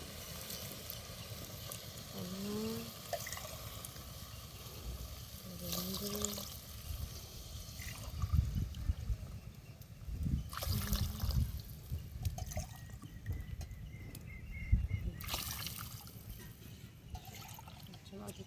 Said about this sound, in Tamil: அதுக்கு தேவையான அளவு தண்ணி ஊற்றிப்போம்